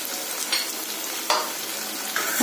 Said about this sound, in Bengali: চিকেনগুলো দিয়ে দিচ্ছি